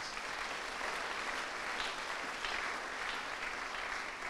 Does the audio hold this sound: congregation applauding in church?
yes